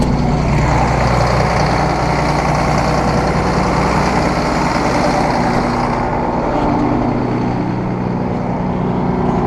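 A truck engine running steadily after a hose check, a loud continuous low rumble close by that drops slightly in tone partway through, with no voices.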